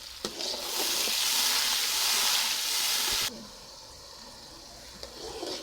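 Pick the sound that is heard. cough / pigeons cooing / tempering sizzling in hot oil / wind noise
tempering sizzling in hot oil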